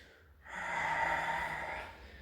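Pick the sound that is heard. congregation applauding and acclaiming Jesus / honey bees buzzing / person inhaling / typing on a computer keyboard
person inhaling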